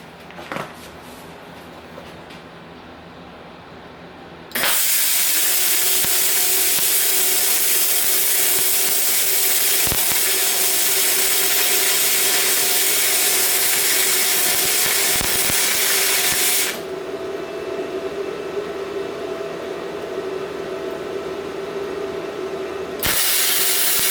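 BestArc MIG 145 welder running flux core wire: a loud, steady crackling hiss that holds for about twelve seconds, drops to a softer sizzle, then flares again briefly at the end.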